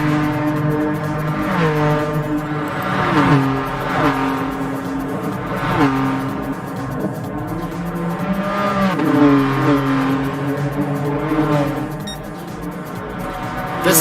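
The BMW Vision GT concept race car in a racing video game drones loudly and continuously, its engine pitch rising and dropping with repeated gear shifts and revs throughout.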